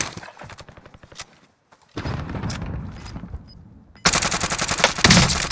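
Rapid bursts of rifle fire from a Krig 6 in a first-person shooter, coming in several loud automatic strings with pauses between, the last burst heaviest and sustained.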